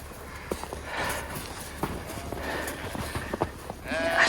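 A flock of sheep spills out into a snowy pasture, their hooves pattering and scuffling close by in uneven bursts over steady background noise, with a faint bleat near the end.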